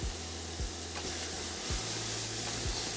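Finely chopped ginger, shallots, salt and MSG fry in hot oil in a pan, giving a steady, dense sizzle close by with a few brief clinks from stirring. No one speaks.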